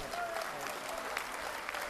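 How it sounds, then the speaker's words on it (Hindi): Applause from a devotional gathering led by a spiritual orator, a steady dense clatter of clapping that fills the whole stretch at moderate level, with speech mixed in over it. "एक बार जोरदार ताली इनके लिए बजाइए"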